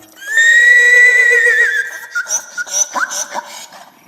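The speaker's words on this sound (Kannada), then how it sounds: "ಇದು ಕತ್ತೆಯಂತೆ ಶಬ್ದವನ್ನು ಮಾಡಬಲ್ಲದು ಮತ್ತು ಕುದುರೆಯ ಹಾಗೆ ಕೂಡ ಸೌಂಡ್ ಮಾಡಬಲ್ಲದು" A horse-donkey hybrid gives a long, loud whinny-like call that wavers and fades, then breaks into a series of short, rhythmic bray-like honks, close and without talk.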